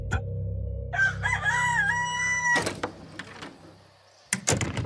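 A rooster crows once, loud and close, its call rising and falling over a low hum, followed by clattering knocks and a door-like bang.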